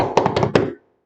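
Hands beat a quick run of taps on a surface to imitate a drum, about five close thumps in rapid rhythm before stopping.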